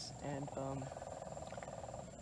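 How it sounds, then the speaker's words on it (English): Frogs croak at night beside water during a night fishing outing for juvenile tarpon, a steady pulsing chorus running under a brief spoken word, with a thin, constant high insect whine above. "There's a lot of frogs in the background"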